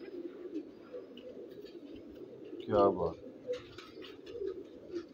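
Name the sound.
pigeons cooing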